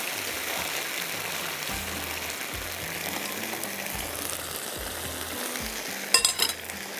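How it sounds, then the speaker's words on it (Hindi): Garlic sauce being mixed into chicken seekh kababs in a pan after the heat is turned off, with a soft, steady sizzle, low scraping stirs and a brief clatter near the end. "अब इसके अंदर जाएगी ये सॉस, चूल्हा बंद करने के बाद।"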